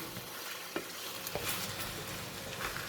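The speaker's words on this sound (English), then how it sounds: "Just give it a stir." Ayam masak merah, a red chicken curry, is stirred in a pan over the heat, a soft continuous sizzle with a few light spoon scrapes, fairly faint and with no voices.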